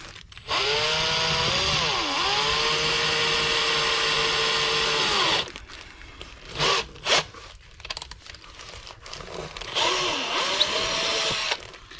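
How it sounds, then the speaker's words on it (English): An angled drill bores holes in Cobra Daytona headlight covers, running at a steady pitch for several seconds with a brief dip in speed, stopping, then buzzing again in short bursts near the end. "So I'm going to drill with this thing first"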